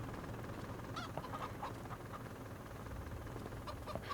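Chickens clucking inside a coop on a farm in Farming Simulator 25, scattered soft clucks and squawks over a low steady background hum, faint and fairly distant.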